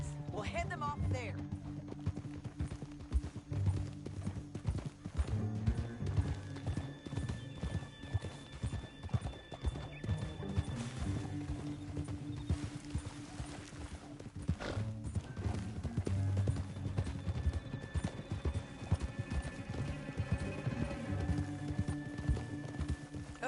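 Steady clip-clop of horse hooves in the video game Red Dead Redemption 2, a rhythmic trotting beat that runs throughout under a constant music and ambient bed, with an occasional whinny, moderately loud and close.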